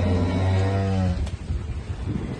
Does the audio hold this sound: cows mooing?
yes